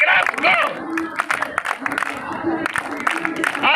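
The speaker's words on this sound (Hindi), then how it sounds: "जोरदार तालियां बजाएं।" Crowd clapping at an outdoor protest sit-in, loud and continuous with dense claps and some cheering, mixed with a voice talking over it.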